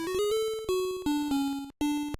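An LSDj chiptune phrase plays the same part on two Game Boy channels with a fine-tune offset, a bright buzzy square-wave melody of several stepped notes with a fast pulsing beat. It sounds harsh and slightly detuned, with a short gap before the last note.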